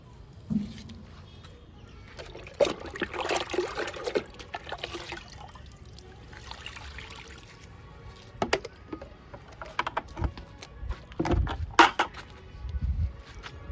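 Liquid fertilizer poured onto a potted flowering jasmine plant, with intermittent splashing and trickling bursts and a few drips spread across the clip, close and moderately quiet, with faint background noise between pours.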